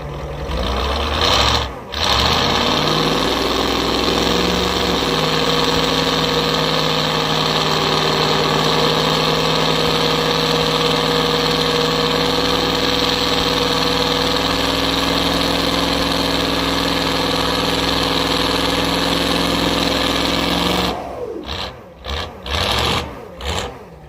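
A 250 Chevrolet inline-six, once seized from sitting outside, runs and idles loudly at a steady, even note for about twenty seconds before it cuts off and sputters near the end.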